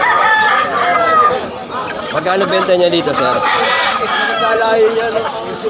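Roosters crow amid the bustle of a Malabon pet market selling pigeons and fowl, loud drawn-out calls rising over a busy crowd while a man asks about prices.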